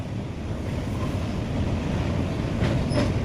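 Train crossing the long bridge over the Narmada river, a continuous rumble of wheels on the track with wind rushing past, steady and moderately loud throughout.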